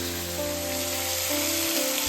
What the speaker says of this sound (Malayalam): രണ്ട് സൈഡും ഒന്ന് സീർ ചെയ്ത് ആ പാൻ ഫ്രൈ ചെയ്തെടുക്കണം കേട്ടോ